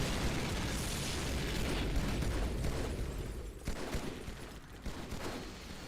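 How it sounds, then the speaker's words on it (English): Covenant large plasma turret firing at a building in Halo 2, a dense barrage of loud booming bursts and explosions rolling together, strongest at the start and thinning into scattered blasts toward the end. "This is where we got the Covenant plasma turret here. The large plasma turret. Let's shoot in the building."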